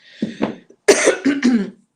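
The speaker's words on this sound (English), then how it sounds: "So if you hear me coughing" A few close, sharp coughs in quick succession, with a brief throat-clearing sound, loud and near.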